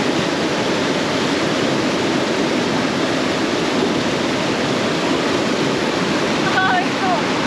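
Cold snowmelt water rushes along the Three Falls trail in Alpine, Utah, a loud, dense, continuous roar of churning water that fills the whole scene without letup.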